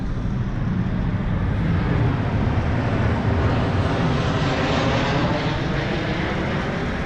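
Airplane passing overhead with a steady, broad engine roar that holds loud and even throughout, with no speech over it.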